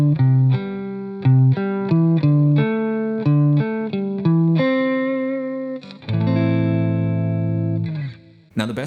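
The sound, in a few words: guitar playing pentatonic interval permutation patterns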